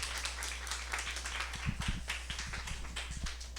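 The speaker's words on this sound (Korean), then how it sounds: "큰 박수 부탁드리겠습니다." Scattered clapping from an audience at a morning seminar event greeting the next speaker, a moderately quiet patter of hand claps that holds steady throughout.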